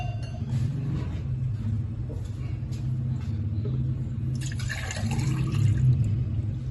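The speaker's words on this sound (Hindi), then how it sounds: "ये 2 गिलास पानी के डाल दिए इसमें" Water poured from a steel glass into a bowl of soaking tamarind and dried plums, a splashing, gurgling stream that swells near the end over a low background rumble, close by and with no talk.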